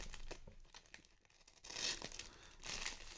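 Plastic packaging for a G.I. Joe Classified Series action figure crinkling and tearing as it is opened, a close, steady run of crackles that swells in two louder bursts.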